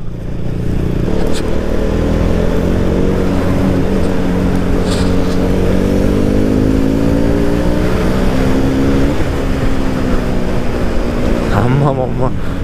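A KTM Duke 200 motorcycle on the road makes a loud, steady engine drone with shifting pitch as it accelerates and changes gear, with heavy wind rumble over it and a rising rev near the end.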